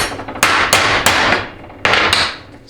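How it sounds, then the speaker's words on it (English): A bushing is hammered into a transmission extension housing for a 4L60E, 700R4 or TH350 two-wheel-drive setup, with four sharp, loud metallic hammer blows at uneven intervals, close by, each ringing briefly. "smack it in a little bit further"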